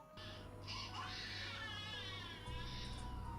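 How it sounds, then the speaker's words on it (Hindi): A newborn baby cries continuously and fairly close, wavering wails held over a steady low background hum, in a dramatized period setting. "उन्हें किसी नौजायदा बच्चे की रोने की आवाज आती है।"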